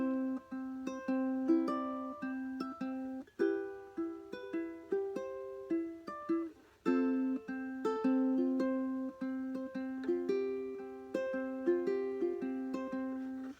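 Fingerpicked ukulele playing a tune from a song tutorial, with plucked notes and chords in a steady, lightly varied pattern, close and clear, with no talking.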